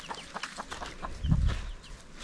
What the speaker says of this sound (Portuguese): as galinhas onde eu cavoquei.